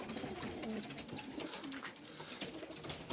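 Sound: racing pigeons arriving at the loft

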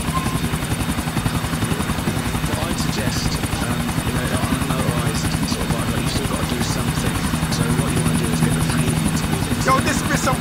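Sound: helicopter from a video game

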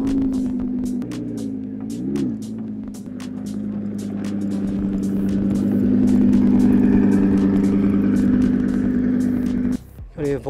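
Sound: camper van driving away

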